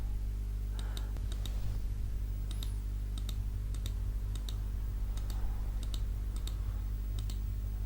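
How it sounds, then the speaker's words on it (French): A computer mouse clicks in Photoshop, a string of sharp, faint clicks in loose, irregular clusters over a steady low hum. "On clique sur Alt et on clique avec la souris pour copier cette partie-là."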